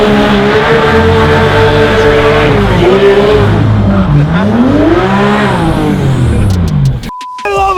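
A Porsche GT3 in manual mode accelerates hard, its loud engine note climbing and dipping as it pulls away, then cutting off abruptly near the end.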